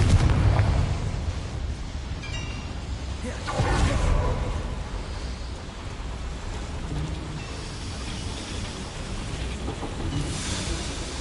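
A Confringo blast spell in Hogwarts Legacy on PS5 sets off rumbling explosive bursts, one at the start and a stronger one a few seconds in, followed by lingering low rumble.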